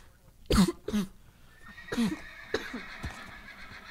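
A Minecraft horse snorts and whinnies several times in short bursts, close and fairly loud, with quieter breathy sounds between calls.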